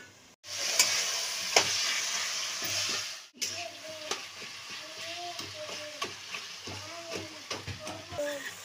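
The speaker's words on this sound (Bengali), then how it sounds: "একটু সামান্য একটু খুন্তি ধোয়া জল দিচ্ছি, একটু ফুটুক।" A fish head and water lily curry simmers in a covered pan, giving a steady soft sizzle and bubbling. Faint clinks and a voice come and go over it.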